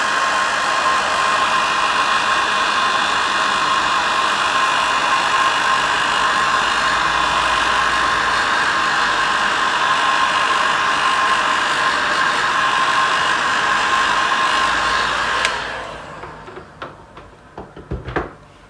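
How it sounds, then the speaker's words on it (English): A heat gun blowing steadily and loudly to melt embossing powder for a metal-look card shape, a constant roaring whoosh that runs for about fifteen seconds before cutting off, leaving a few faint handling knocks. "So I'm going to use my heat gun and heat that up and then melt the powder."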